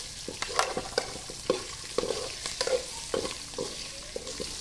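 Onions sautéing in a pan before curry leaves go in, with a steady sizzle under frequent spoon strokes and scrapes, close and clear with no talking.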